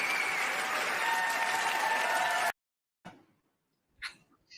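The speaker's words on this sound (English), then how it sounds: "I had to give you a round of applause for that" Applause fills the first half at steady volume, then cuts off abruptly to near silence, followed by a couple of brief faint noises.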